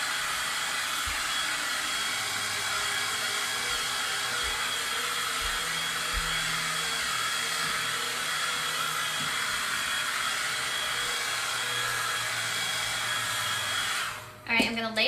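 A blow dryer dries a Christmas decoration outdoors, its steady close whooshing hiss running continuously before a short handling clatter at the very end.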